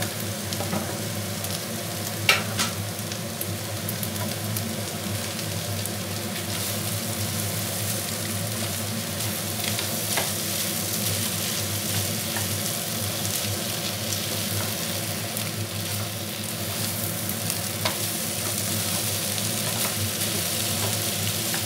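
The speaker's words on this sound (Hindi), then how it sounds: "आलू को भी फ्राई होने देते हैं।" Potatoes fry in butter in a pan, giving a continuous, even sizzle and bubbling crackle at close range, with a faint stirring tap now and then and no voices over it.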